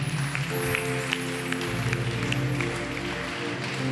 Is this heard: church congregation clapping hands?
yes